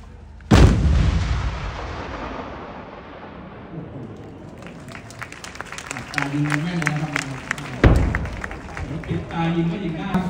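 Two 155 mm towed artillery guns fire at an army range, each a huge close blast followed by a long rolling rumble, with voices and crowd noise faintly underneath.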